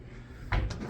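A basic drawer in a hotel room slides once, a single short thud and rub standing out briefly against a quiet room.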